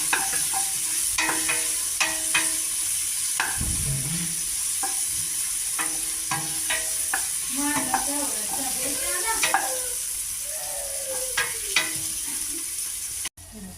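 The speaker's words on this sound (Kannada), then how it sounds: "ಇದಕ್ಕೆ ನಾವು ಇಟ್ಕೊಂಡಿದ್ವಲ್ಲ ಚಕ್ಕೆ, ಲವಂಗ, ಏಲಕ್ಕಿ, ಸ್ವಲ್ಪ ಸೋಂಪು ಮತ್ತು ಧನಿಯಾ ಕಾಳನ್ನ ಹಾಕ್ಕೊಂಡು ನಾವು ಮಿಕ್ಸ್ ಮಾಡ್ಕೊಳ್ಳೋಣ" Spices—cinnamon, cloves, cardamom, fennel and coriander seeds—stirred and roasting with tomatoes in a pan for mutton chops, a steady sizzle under repeated scraping, clinking spoon strokes, close and continuous.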